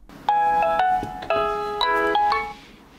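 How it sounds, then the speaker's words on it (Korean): Melodic telephone ringback tone while a call connects: a series of bright electronic chime notes repeating in short phrases, clear and alone. "네, 그럼 바로 전화 연결해 보도록 하겠습니다."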